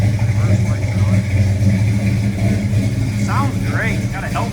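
A 1954 Chevrolet 210 sedan with a small-block 350 V8 and turbo transmission runs nearby with a rumbling engine and brief revs, while a person talks over it.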